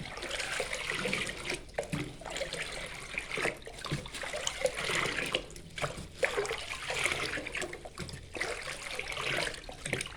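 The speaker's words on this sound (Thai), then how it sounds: "ทั้ง A และปุ๋ย B นะครับ เราจะกวนจะใช้การกวนก็ได้ครับ" Water sloshes and trickles steadily as hydroponic nutrient solutions A and B are stirred into water in a foam box, a continuous close liquid churning with small splashes throughout.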